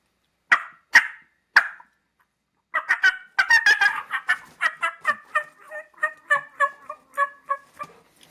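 Turkey fly-down imitation made by flapping a hat during turkey calling: three soft flap thumps, a short pause, then a long, loud run of rhythmic turkey-like yelps and clucks imitating a hen, close by and without talk.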